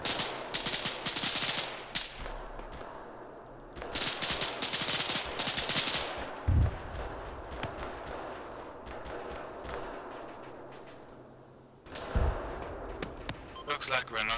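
Gunfire in ARMA 3 with French Army forces, with repeated loud shots and bursts breaking through a steady battlefield din, and a couple of sharp heavy reports standing out.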